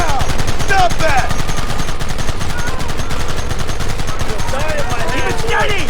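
Dense, rapid gunfire from the Red Dead Redemption video game fills the whole stretch as a loud, continuous rattle of shots, with shouting voices breaking through now and then.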